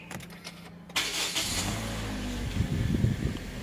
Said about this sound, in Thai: ขออนุญาตสตาร์ทเครื่องให้ฟัง นะฮะเหยียบเบรกนะครับ ปุ่มพุทสตาร์ท